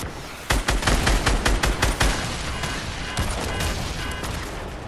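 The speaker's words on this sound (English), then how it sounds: "he's shooting" Rapid bursts of gunfire in a Fortnite match, loud and close, a quick run of shots followed by a denser, steady rattle of firing that continues to the end.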